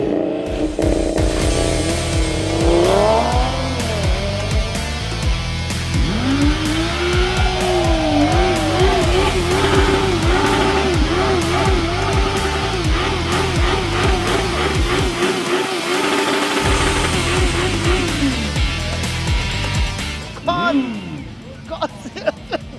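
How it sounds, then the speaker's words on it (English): An Audi TT RS with a five-cylinder engine and four-wheel drive revs hard and loud up close, pitch sweeping up and down through repeated throttle blips, with brief tyre squeal. "Well, we have a nice little TTRS here. Four-wheel drive, this sounds incredible also."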